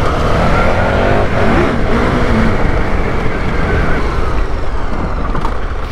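A 2021 KTM 1290 Super Adventure motorcycle spins its rear wheel on a dusty off-road track in Wales, a loud, steady engine roar with a broad gritty rush that holds at the same level from start to finish.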